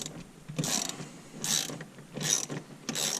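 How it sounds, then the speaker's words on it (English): A ratchet wrench loosening a 13 mm nut on the shifter of a 2020 Dodge Challenger Hellcat, heard as four close, rhythmic bursts of ratcheting clicks separated by short pauses. "this is a 13 millimeter nut on here. And what we'll do is we'll loosen this up."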